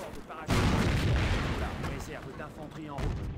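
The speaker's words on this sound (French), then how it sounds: "Mais c'est quoi ce gros canon là?" Heavy artillery cannon blasts boom one after another in the video game Company of Heroes, loud and close, leaving a rolling rumble that fades and swells again.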